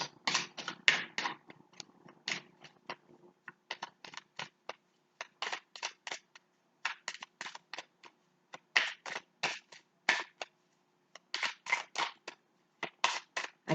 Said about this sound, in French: La carte a du mal à sauter du paquet.